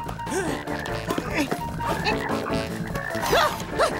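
A cartoon toad croaks in a few warbling, swooping calls over busy background music, with some talking mixed in.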